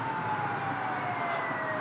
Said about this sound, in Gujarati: એમ્બ્યુલન્સ બહુ જાજી.